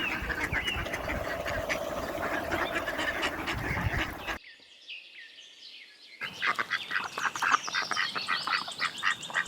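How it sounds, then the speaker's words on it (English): Ducklings peep in high, rapid chirps mixed with croaking and quacking farmyard calls. After a brief quieter gap, a dense, lively burst of chirping resumes. "Duckling."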